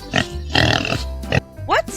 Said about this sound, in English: Great! It's a pig.